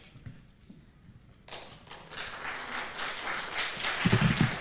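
A genealogical society meeting audience bursts into steady applause that swells and holds for several seconds, with some heavier claps near the end.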